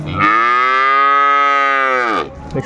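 Close and loud, a single sustained moo comes from a dairy cow at a rural cattle market in Dinajpur, holding steady for about two seconds before cutting off cleanly. No one speaks.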